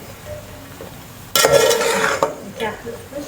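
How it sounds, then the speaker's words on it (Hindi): Sliced sponge gourd fries in a pan as a spoon stirs it, a sudden burst of scraping and sizzling that jumps in loudness midway, then rises and falls again with clinks against the pan. "बस आपने इसको थोड़ा सा फ्राई करना है"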